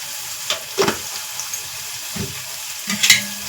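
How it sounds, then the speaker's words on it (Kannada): Onions fry in oil in a pan: a close, steady sizzle broken by several scraping stirs of a spoon, with no talk. "ಎಣ್ಣೆಯಲ್ಲಿ ಈ ಥರ ಹುರ್ಕೋಬೇಕು"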